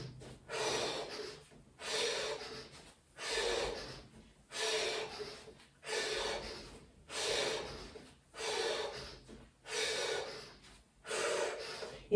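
Rapid rhythmic breath of fire breathing exercise, nine evenly spaced bursts of forceful nasal breaths, each lasting about a second with short pauses between, close and clear with no talking.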